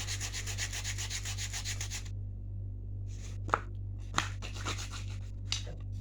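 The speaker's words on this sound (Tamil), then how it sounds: "இந்த மாதிரி நல்லா மொட்டை ஆகிற வரைக்கும் நல்லா தேய்ச்சிக்கிறேன்." An arrow tip is rubbed and sanded until blunt on a homemade bow-and-arrow project, heard as a dense close scraping burst, then a pause and sparser rasping strokes with a couple of sharp taps over a steady low hum.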